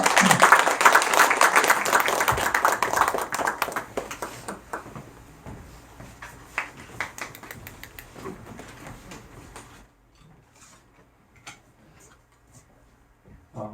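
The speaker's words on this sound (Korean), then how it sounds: "우리 박수로 한번 환영하겠습니다." A church congregation breaks into applause that starts loud and dense, then thins out into scattered claps and fades to near silence.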